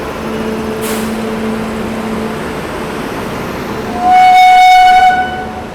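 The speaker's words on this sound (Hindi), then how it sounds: "डिब्रूगढ़ राजधानी एक्सप्रेस।" The Dibrugarh Rajdhani Express arrives at platform 3 with a rolling rumble, then sounds a loud, clear horn blast lasting about a second near the end.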